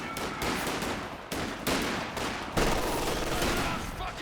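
Machine-gun fire in the World War II strategy game Company of Heroes 2 rattles in steady, dense bursts over continuous battle noise, with faint talk under the shooting.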